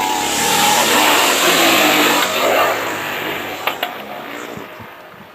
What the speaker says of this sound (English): It's great to see this Auckland car still going around